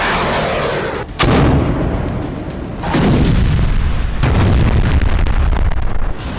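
Artillery bombardment in the Israel-Hamas war: a loud, continuous barrage of deep booms and blasts, with sharp bursts around the second and fourth-second marks and rumbling explosions throughout, no voices.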